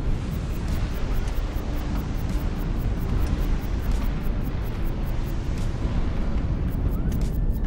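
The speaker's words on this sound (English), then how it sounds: "So that's the missile from Osirnis." A loud, continuous rumbling roar fills the scene as a missile from the Osirnis ship strikes in Highfleet, a dense, booming wash of explosion noise that holds steady without pause.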